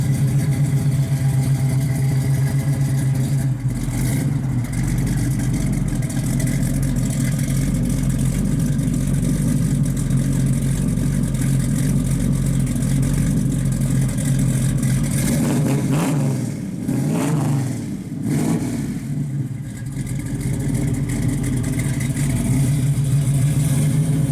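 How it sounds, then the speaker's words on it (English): A deep, throaty big-block V8 in a 1969 Chevrolet Camaro SS rumbles steadily up close through a full 3-inch Flowmaster exhaust, with a brief rev and dip partway through, no voices. "So it's got a full 3-inch Flowmaster exhaust all the way out the back."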